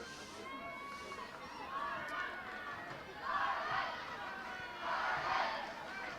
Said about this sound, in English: Crowd responding to Ireland's improved performance over the last few minutes by finding their voice.